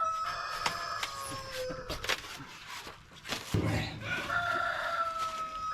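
Chickens cluck and crow nearby, several birds calling over one another with scattered bangs and rustling in the background.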